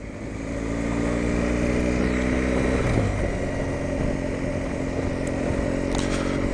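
A motor vehicle approaches and passes on a narrow single-track country road, its engine drone steady and loud throughout with a brief swell near the middle as it goes by.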